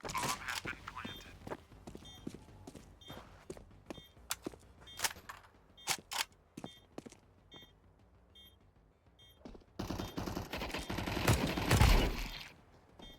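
Gunfire from Counter-Strike 2 cracks out in a rapid run of sharp shots, sometimes single and sometimes in clusters, loud and close, followed by a dense burst of noise near the end with game beeps scattered through.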